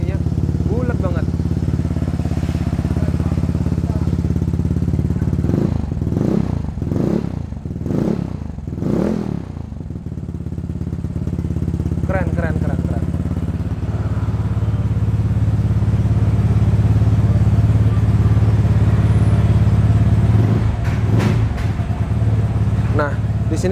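A modified Vespa Sprint scooter engine idles and blips through its exhaust, with a deep, round burble, several sharp throttle revs near the middle and a rising run toward the end, loud and close, with voices talking over it.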